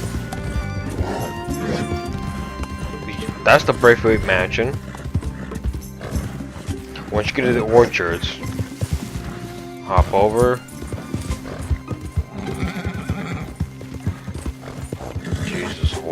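Steady, rhythmic hoofbeats of a galloping horse in Red Dead Redemption 2 run close throughout, with several loud neighs rising over them while someone talks over the ride.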